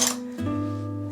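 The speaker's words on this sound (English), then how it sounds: "Take cookie cutters out." Metal cookie cutters for cut-out sugar cookies clink briefly as they are lifted out, a quick light chink followed by a fading ring, heard close and on their own.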